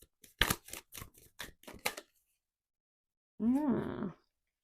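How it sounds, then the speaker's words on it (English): A deck of tarot cards shuffled by hand: a quick run of crisp, separate riffling snaps over about two seconds, then silence, then a brief voice. "A really good shuffle."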